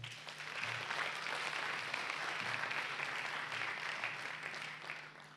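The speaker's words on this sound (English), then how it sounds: "So can we please give them a round of applause?" Audience applause at a morning keynote plenary session of a conference, a distant, fairly quiet wash of clapping that swells and holds steadily, with a faint low hum beneath.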